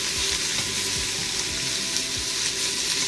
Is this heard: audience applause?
no